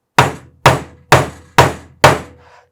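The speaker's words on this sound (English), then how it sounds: "I have some experience with a hammer and nails, so I'm going kind of fast, but take your time." Hammer striking nails into a wooden treasure box, five sharp evenly spaced knocks, each ringing briefly before the next, close and loud with no talking.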